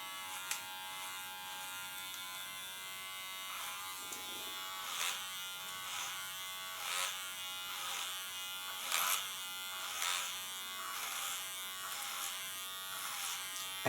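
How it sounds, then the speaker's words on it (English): An electric hair clipper hums steadily while cutting thick hair at the nape, a close, continuous buzz with brief louder surges as it bites into the hair. "And you can hear she has beautiful thick hair. Even the clipper has to work on it."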